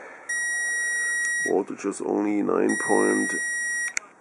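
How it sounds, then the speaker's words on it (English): A 300-watt power inverter running a 100-watt bulb load off an alum electrolyte car battery beeps with a steady high-pitched tone that stops midway and returns, while someone talks over and between the beeping. "you can see the inverter is already beeping"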